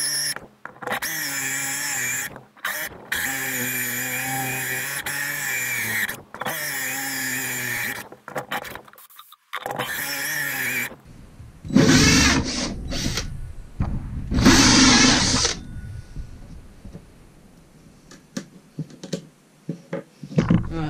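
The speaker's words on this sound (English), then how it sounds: "So I'm just going to start drilling the hole." A power drill bores a hole into clamped wood while a DIY PC speaker is being built. Several long, loud whining runs of the motor stop and restart, followed by two shorter bursts of grinding contact and quieter stretches with small knocks.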